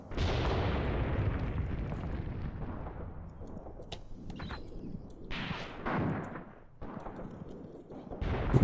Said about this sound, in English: Machine guns here shooting at anything.